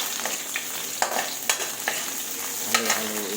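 Ginger sizzling and frying in a pan, with steady crackling and repeated scrapes and clacks of a utensil stirring it, close and without talk.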